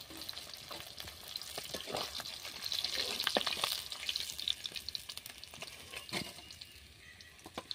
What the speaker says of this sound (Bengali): এইরকম ভাবে সব মাছগুলো ভেজে নিচ্ছি।